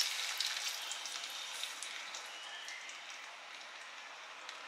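Bay leaves, cinnamon, cloves and star anise sizzle in 200 ml of hot oil for beef biryani, a steady, soft crackling hiss with no voices.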